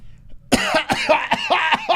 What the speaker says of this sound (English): what if I cough in your face right now?